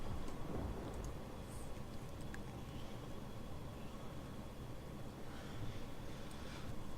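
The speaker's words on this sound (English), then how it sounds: "we're still flying through the rain here" Rain and thunder while flying an aircraft in the X-Plane 11 flight simulator: a dense, steady rush of rain noise with deep rumbling underneath, constant and fairly loud throughout.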